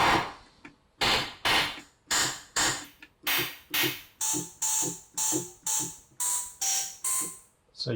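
Casio CZ-1 phase distortion synthesizer playing a rapid series of short, buzzy noise-modulated notes in steady rhythm, each a bright hissing burst with pitched tones emerging in later notes, heard close and alone.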